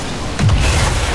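A car explodes in the video game XCOM with a single deep, rumbling boom that swells suddenly and lingers briefly over a steady background hum.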